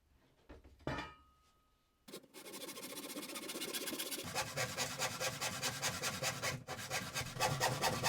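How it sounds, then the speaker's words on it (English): A handsaw cuts through a 9mm plywood sheet in close, rhythmic rasping strokes that build into a steady fast sawing after a few tentative starts. "got to work cutting it out with a handsaw"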